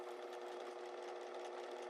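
A sewing machine stitching the facing of a square-neck top: a steady, even mechanical whir running continuously at low volume, with no voices.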